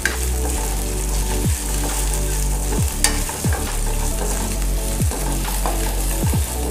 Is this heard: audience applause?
no